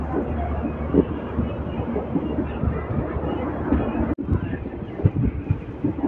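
The Pandharpur–Mysore–Hubli train rumbles steadily nearby under a hot sun, a dense low roar with a brief sharp dropout partway through before the rolling noise resumes.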